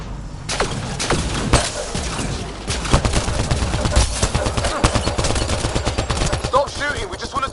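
Rapid gunfire from a firefight in Mass Effect Andromeda, a game set two million light years from home: dense, loud bursts of shots crack in quick succession and continue almost without pause.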